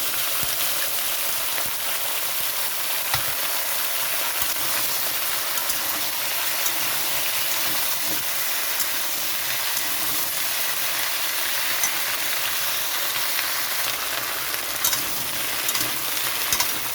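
Cut vegetables with whole cumin and green chillies sizzle in oil in a kadai, giving a steady, dense hiss of frying that continues unbroken throughout.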